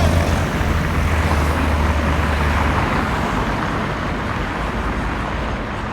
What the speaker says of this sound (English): Lot of planes passing overhead